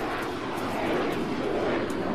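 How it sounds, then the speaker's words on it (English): Jet turbines roaring steadily in the ArmA 3 military game, a dense, continuous broadband whine and rush that holds at an even level for the whole stretch with no talk over it. "Couldn't hear it over the fucking turbines on this jet."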